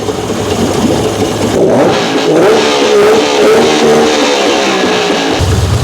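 A Tohatsu outboard boat engine runs up close and loud in a showroom setting, a steady rough mid-pitched drone with slight revving swells throughout.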